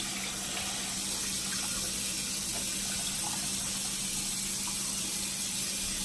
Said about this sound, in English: So right now I'm rinsing off the nuggets again.